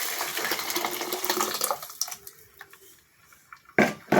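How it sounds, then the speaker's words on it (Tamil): Dissolved tamarind water poured into a cooking pan, a splashing, gurgling pour that runs for about two seconds, then tapers into scattered drips and small splashes with a final brief splash. "இப்போ கரைச்சி வச்சுக்கிற புளி தண்ணியை ஊற்றுறோம்"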